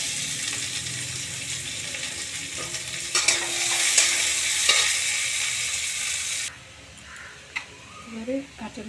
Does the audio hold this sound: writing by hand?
no